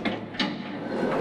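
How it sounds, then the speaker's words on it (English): A door opens in the Garten of Banban 4 video game, heard as a couple of short sliding, rumbling mechanical pulses followed by a sustained grinding slide, fairly close and without talking. "Oh, is he gonna open the door?"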